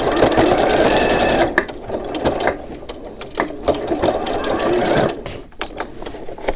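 A sewing machine stitches the bottom seam of a small eco-mink fabric handbag, running in fast rattling bursts with brief stops and restarts, close and loud.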